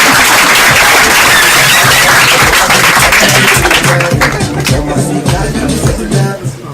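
A live comedy audience applauds steadily at a show, dense clapping close and loud throughout, easing off slightly near the end.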